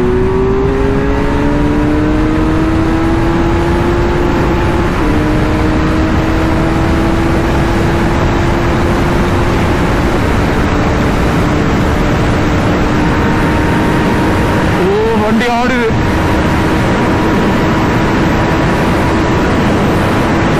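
A motorcycle engine running hard at high speed on a highway, a loud continuous drone with steady harmonic tones that shift gradually as revs change, over heavy wind rush, plus a brief warbling sweep near the end.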